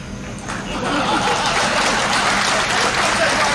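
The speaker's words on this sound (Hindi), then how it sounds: "और तालियां तो अब चाहिए।" An audience at a Hindi comic poetry recital breaks into applause mixed with scattered laughter, swelling after a moment into a steady, dense, sustained wash of clapping.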